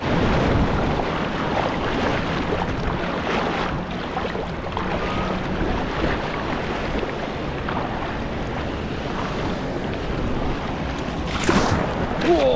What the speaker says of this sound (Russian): Волны накатывают конкретно.